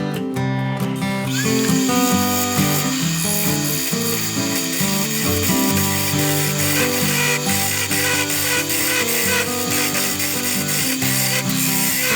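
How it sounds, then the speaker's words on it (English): A wood lathe turns a vase at about 1100 RPM, giving a steady, loud mechanical whirring and ratcheting chatter that runs continuously and close, with no talking. "I'm going right now about 1100 RPM, but I should be able to speed up."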